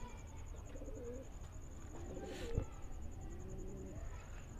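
Madrasi pigeons coo in soft, low repeated calls against a steady background hum, with a faint high electronic whine running throughout.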